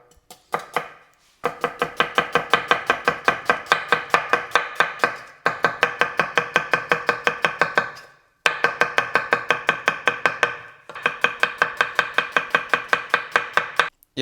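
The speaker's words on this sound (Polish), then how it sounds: "Ja sobie tutaj wezmę do tego bardzo ostry nóż. No i cebulkę tak naprawdę pokroimy sobie w piórka." Very sharp knife chopping onion into thin slices on a board, rapid even rhythmic taps in four long bursts separated by short pauses, close and crisp, no talk.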